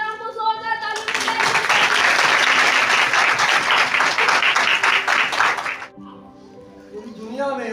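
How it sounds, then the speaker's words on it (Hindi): Church congregation at a Christmas Day sermon bursting into loud, dense applause, rising sharply after the preacher's voice, sustained for several seconds, then cutting off as he resumes speaking. "अपने खुदावंद के कलाम को जोरदार तालियों से"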